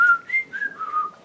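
A human voice imitates a strange whistle heard in a motel room, giving a short, clear phrase of four sliding whistled notes, close and alone.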